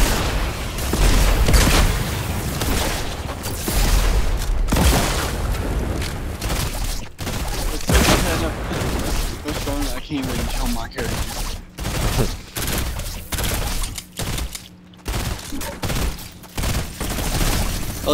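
Rapid bursts of gunfire ring out almost nonstop while players shoot monsters on a Fortnite zombie siege map, the loud game shooting running throughout, with voices talking over it.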